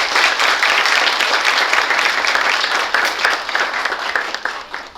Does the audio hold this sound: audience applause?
yes